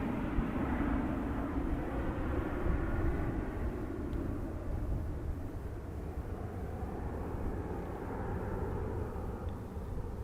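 A KLM airliner bound for Amsterdam rumbles at a distance during evening plane spotting at Edmonton International, a steady broad drone that holds evenly and slowly fades slightly over the stretch.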